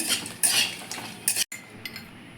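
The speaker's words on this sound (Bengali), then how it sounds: "দারচিনি লবঙ্গ আর দুটো ফাটিয়ে এলাচ দিয়ে দিয়েছি এবার একটু হালকা নাড়াচাড়া করে নেব" A metal spoon clinks and scrapes in a pan holding bay leaves, cinnamon, cloves and cracked cardamom for a vegetarian Bengali basanti pulao. Short uneven bursts of scraping come close together with a brief silent gap, and no voices.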